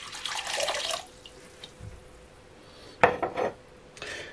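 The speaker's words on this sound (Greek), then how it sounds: "Σε ένα μπολ θα βάλουμε 400 γραμμάρια χλιαρό νερό" Lukewarm water pours into a mixing bowl for pizza dough in a short burst, with light clinks of dishes and a louder splash and rattle near the end.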